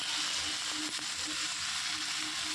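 French beans, chopped fine, fry in a pan with a steady sizzle, while a few short scrapes of stirring come through close by with no talking.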